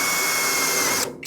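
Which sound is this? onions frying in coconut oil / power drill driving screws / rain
power drill driving screws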